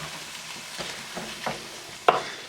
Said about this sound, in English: Just going to dump that shrimp right in there and let this cook.